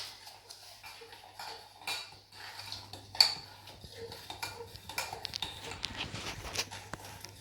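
A utensil mixing salt for a beer pizza dough in a bowl, with scattered clinks and scrapes of metal against the dish, faint at first and then busier and more continuous, without speech.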